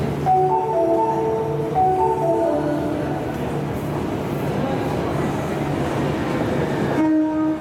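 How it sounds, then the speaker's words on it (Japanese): An Osaka Municipal Subway Sakaisuji Line train rolls into a station with a steady rumble; chime-like tones sound at the start and again as it comes to a stop. "2番線に到着の電車は茨城行きです。"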